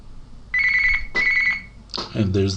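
A telephone rings with an incoming verification call for an AWS account setup, two electronic trilling rings close by, then a voice speaks over the end.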